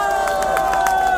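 Crowd applause for a singer at the Birbusca XV 2023 live concert: rhythmic clapping bursts and cheering crowd noise over a sustained, steady tone, loud and close.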